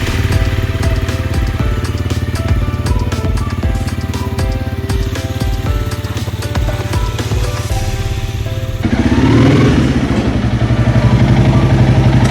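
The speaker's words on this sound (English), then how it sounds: "So let me warm up the bike, warm up it well so I can get as much of old oil out from the engine." Honda CRF300L motorcycle engine warming up at idle, a loud, close, steady single-cylinder putter with rapid regular firing pulses and slight mechanical clatter, shifting briefly to a rougher tone near the end.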